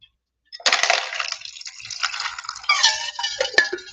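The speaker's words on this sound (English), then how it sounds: "I'm gonna put a little drinking water in my," Drinking water poured into a small container for rinsing a paintbrush, a close, steady splashing trickle lasting a few seconds with small clinks near the end.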